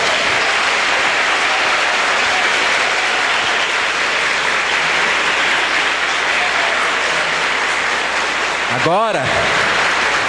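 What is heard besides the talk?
congregation applause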